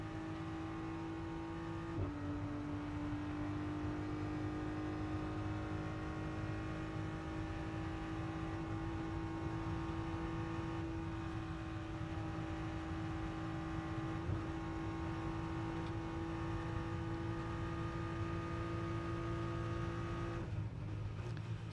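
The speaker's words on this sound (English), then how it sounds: "a great noise from the BMW" A BMW race car of the Rover Racing team roars on-board at the Macau Grand Prix street circuit, its engine note loud and steady as it runs flat out, with a brief shift near the start.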